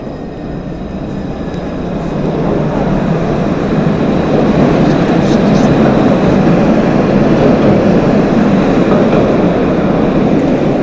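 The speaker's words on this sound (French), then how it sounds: "il y a un tramway qui vient tout juste de passer" An RATP tram in Île-de-France passes close by, a loud, steady rolling rumble that swells after the first couple of seconds and holds level to the end, with no voices.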